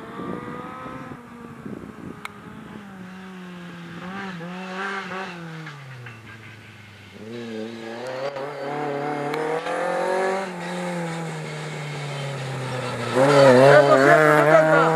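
Super 1600 rally car on a gravel stage at the Quilmana rally, its engine revving hard through the gears as it nears and passes, growing louder and rougher toward the end, loud and close with no voices.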